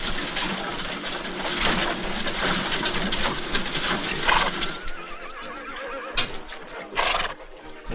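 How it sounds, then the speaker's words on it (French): Horse being broken in neighs and whinnies loudly and repeatedly over scuffling hooves and commotion, with sharp bursts in the middle and near the end. "Personne ne réussira jamais à mater ce cheval, ni moi ni un autre."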